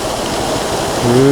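Heavy monsoon-season waterfall water rushing with great force near a temple route, a loud steady broadband roar filling the whole moment without a break.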